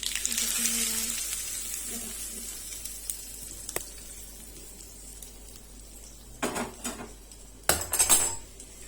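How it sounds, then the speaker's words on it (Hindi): Mustard seeds, curry leaves and green chili hit hot oil with a bright hiss that fades, then a utensil clinks and scrapes against the pan near the end, tempering coconut chutney. "बस इसका हम तड़का डाल देंगे इसमें।"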